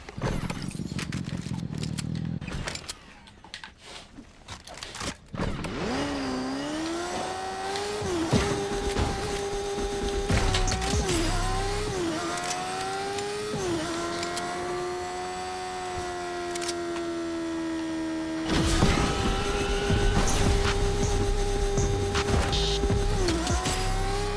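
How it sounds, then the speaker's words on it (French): A motorcycle engine boosts in Fortnite, a steady synthetic drone whose pitch climbs and holds after a scrappy start, with brief clattering bursts near the end and no talk. "Il n'y a que quand on utilise le boost que cette moto utilise de l'essence."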